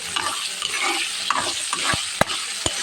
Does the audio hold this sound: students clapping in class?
no